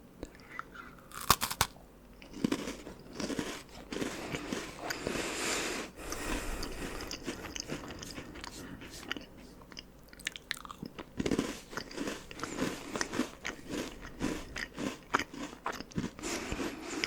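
Close, crisp crunching and chewing of grape-flavoured Asian biscuits, with repeated bites and crackly mastication throughout at quiet, intimate level and no talking.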